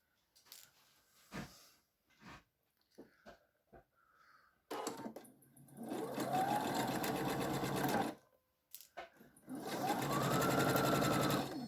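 A sewing machine stitches fabric in two sustained whirring runs, close and fairly loud, separated by a pause, after a stretch of scattered soft handling clicks and thumps.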